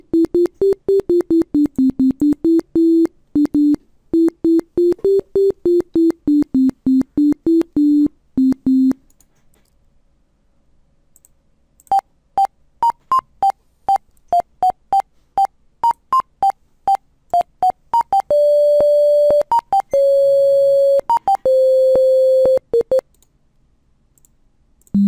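A computer beeper driven by a C# app plays Ode to Joy as a sequence of clipped electronic square-wave tones, first a lower run of notes, a pause, then a higher passage ending in longer held beeps.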